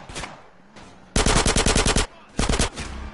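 AK rifle fire in Grand Theft Auto San Andreas comes in loud rapid bursts, a long automatic string followed by a shorter one, close and dominant with scattered single shots before.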